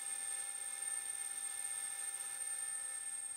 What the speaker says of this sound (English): There's the 32mm drill going through the blank. Power fed.